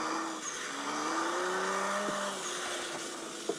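An FPV RC car drifts sideways, its motor whining in rising and falling tones as the tires scrub and skid, close and moderately loud, ending with a small knock and no talk.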